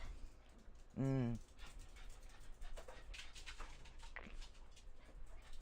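A dog gives a brief, close whimpering whine, followed by soft panting and faint rustling while people talk nearby.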